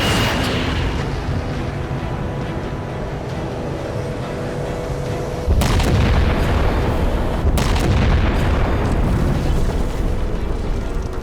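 Heavy ship-mounted weapon firing and exploding in the Halo 4 video game, a continuous deep rumbling roar that jumps into a louder blast partway through, with sharp impacts following, no voices.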